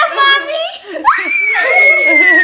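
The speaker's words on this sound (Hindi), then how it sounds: "मिरर में देखकर चीखे मारता है।" A young child shrieks loudly while looking at himself in a mirror, a high, piercing scream with gleeful squealing tones and a brief break, close to the recorder.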